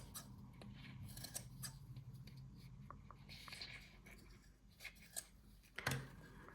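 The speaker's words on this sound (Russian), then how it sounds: "И самое такое крупное я подрезаю большими ножницами." Large scissors snip through material in a quiet room, a string of short crisp cuts with some rustling between them, closing with one louder snip.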